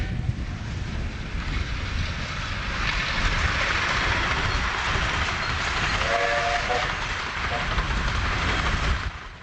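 Winston Churchill, a steam locomotive on a miniature railway, rumbles steadily and loudly past Taylor Road toward New Romney, with a short whistle partway through.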